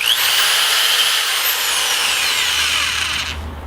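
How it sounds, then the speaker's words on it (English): A power drill bores through a small plastic piece inside a car, a loud, close, whining drone that holds steady for about three seconds, then cuts off abruptly as it breaks through. "I'm gonna drill the holes through the little plastic piece I have in my car that the boost gauge is gonna sit on"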